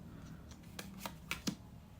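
A deck of cards being shuffled by hand, a handful of crisp riffling snaps at an uneven pace, close and quiet against a low background hum.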